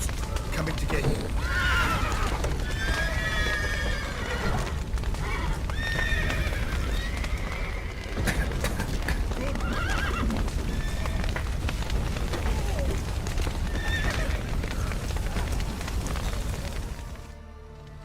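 Horses in The Witcher 3 whinny repeatedly over a dense rumble of hooves clip-clopping and crackling, with rain and shouting voices mixed in throughout.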